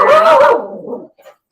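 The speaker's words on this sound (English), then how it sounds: "Sorry, that was my dog." A pet dog gives a loud, close bark at a home livestream, one burst followed by a fading growly tail and a faint trailing yip.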